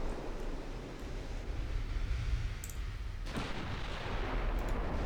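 Heavy naval guns fire in Ultimate Admiral Dreadnoughts, with a loud low boom near the three-second mark rising out of a steady rumble of wind and sea, and a few fainter distant thuds around it.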